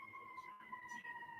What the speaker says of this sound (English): kind of bad when you got sirens going off